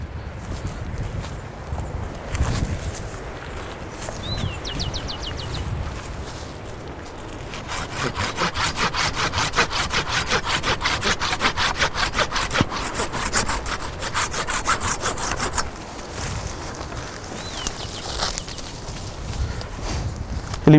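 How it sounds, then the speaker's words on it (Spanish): A handsaw cuts through a thick feijoa tree branch during field pruning, a steady run of rapid back-and-forth rasping strokes lasting about eight seconds, close and clear, bracketed by quieter rustling and handling. "Con el serrucho lo que buscamos es eliminar las ramas que tengan un grosor superior a pulgada o pulgada y media"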